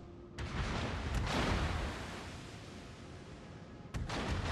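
Warship guns fire in World of Warships, heavy booming salvos that roll into a long rumbling tail, with sharp new reports around the start and again near the end; loud and close, with no talking.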